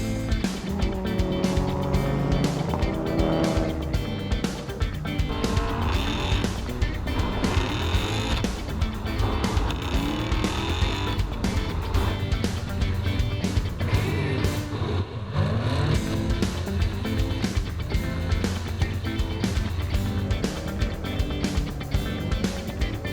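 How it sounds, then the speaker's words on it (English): Holden HSV Maloo drift ute driven hard while drifting with smoking tyres, a loud sustained engine roar with revving surges and tyre noise running continuously throughout. "we smoke up the tyres big time and go drifting with Josh Robinson"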